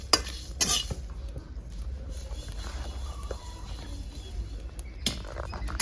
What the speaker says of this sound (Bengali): বন্ধুরা মশলাটা আমার ভাজা হয়ে গেছে